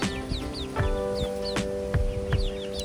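An American Bresse chicken rooster clucking close by in a backyard flock, giving a run of short, repeated clucks and throaty calls in an uneven rhythm, with no talking.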